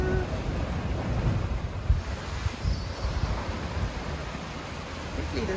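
Sea water rushes and splashes against rocks on the coast of central Portugal amid gusty wind noise on the microphone, a continuous loud wash with no clear talking.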